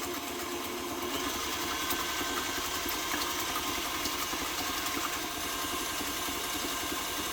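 An electric mixer runs on a wheeled movable cabinet, making a steady, continuous motor hum with a faint rattling vibration that stays even throughout.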